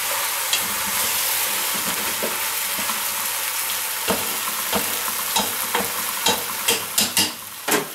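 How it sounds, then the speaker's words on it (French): Tartiflette ingredients sizzle in a pan, a dense continuous frying hiss with a spoon stirring and scraping, the clicks and scrapes growing more frequent toward the end, close up with no voices. "Je mélange à nouveau"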